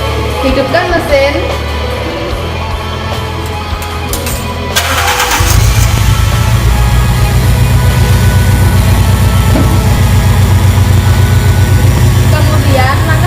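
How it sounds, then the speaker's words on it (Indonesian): A car engine cranks and fires up during a tune-up, then settles into a steady, loud idle that runs close by to the end, with a faint voice early on before it starts. "Setelah itu, hidupkan mesin."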